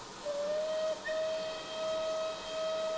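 A steam locomotive whistle on Myatt's Valley Railway in Train Simulator Classic gives one long steady blast, then a short break and a second drawn-out blast, loud and close with a soft hiss beneath and no talking.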